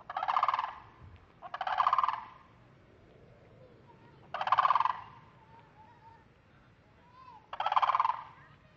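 Flamingos in Florida honk in four loud, nasal bursts, each lasting about a second, separated by short pauses with quiet outdoor background.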